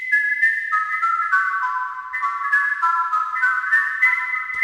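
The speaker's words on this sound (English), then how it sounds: "if I lengthen this delay, we're going to lengthen the amount of time it takes to start repeating that signal" A high, whistle-like synth melody in Reaper runs through a lengthened delay, each tone repeating and overlapping the next so that layered echoes build into shifting harmonies. It is steady and bright, with no voice.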